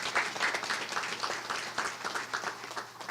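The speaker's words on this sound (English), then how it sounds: "let's give you a round of applause for making it out this morning" A conference audience gives a round of applause, fairly faint and somewhat distant, with the clapping swelling in uneven pulses.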